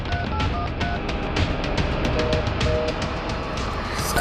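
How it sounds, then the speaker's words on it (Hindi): A telephone being dialed sends a rapid series of keypad tones, one short beep after another against a busy background, with no talking. "फोन करने लग रहा है।"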